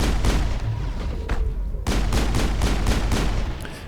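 Gunfire in Mass Effect, a rapid series of loud sharp shots with booming low thuds, firing in quick bursts that turn into an evenly spaced volley near the end.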